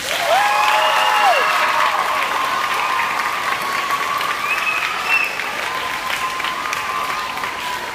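Audience applause for student executive council election candidates, a loud sustained burst of clapping that tapers slightly, with faint whistle-like tones and murmuring under it.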